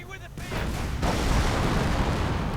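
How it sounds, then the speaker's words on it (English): Artillery fire in a real-time strategy war game, a booming blast that swells into sustained rumbling explosions and continues loudly to the end. "Artillery on, of course, artillery is not going to really do much."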